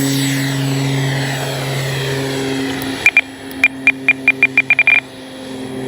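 An FMS 64mm F/A-18 Hornet RC electric ducted-fan jet whines overhead during its maiden flight, a steady sweeping engine tone, then a series of about ten sharp rhythmic clicks over the fading hum.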